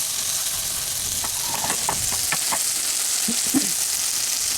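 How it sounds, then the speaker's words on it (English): Chicken strips fry in oil in a cast iron skillet with a steady, close sizzling hiss, broken by a few soft clicks and pokes, and no voices. "I just like to fry stuff in cast iron because it tastes better."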